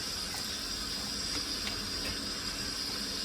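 Water pours steadily into a pot of mutton, a continuous splashing hiss close by with no talking.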